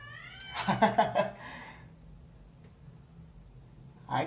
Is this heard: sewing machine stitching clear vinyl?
no